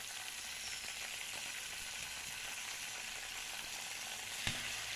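Ginger and cumin paste frying in hot oil for a vegetarian taro leaf dish, a steady close sizzle throughout with a brief sharp clink near the end.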